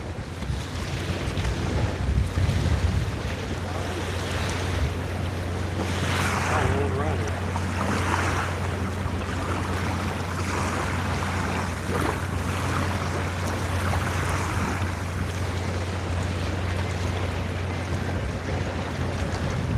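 Wind blowing hard across open water on a winter catfishing trip, a steady loud rush and buffeting against the microphone with a low hum underneath, continuous throughout.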